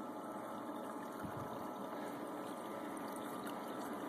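Water pump running steadily as it fills a blue bowl gold panning concentrator, a constant close-up whir and rush of water with no breaks, heard alone.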